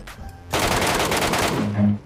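Automatic gun firing in a battle royale mobile video game during a ranked match, a loud sustained burst of rapid shots for about a second, preceded by faint distant fire.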